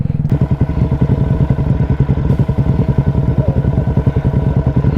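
A motorcycle ridden through the city at night throbs loud and close with a steady, pulsing engine beat that holds throughout, broken only by a couple of sharp knocks.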